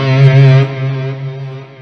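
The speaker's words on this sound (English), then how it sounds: "I will take the Matte Verb and I will add a little delay" Electric guitar through a Neural Soldano amp plugin with added delay and reverb, a single sustained distorted chord ringing out close and loud, then decaying into a smooth tail.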